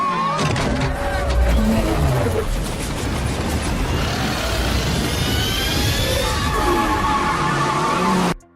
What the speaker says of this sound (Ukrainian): І миттю по газах.